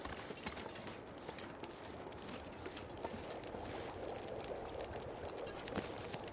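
A survival character drinks water in The Long Dark, with soft liquid gulping and pouring sounds, quiet and steady under a constant windy hiss.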